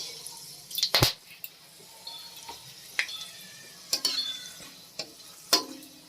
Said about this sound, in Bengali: দিয়ে দেব গোটা জিরে, গোটা গরম মশলা, লবঙ্গ, দারচিনি, এলাচ